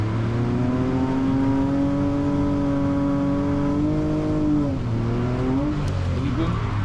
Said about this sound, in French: Louis Gaume sur la piste avec sa E46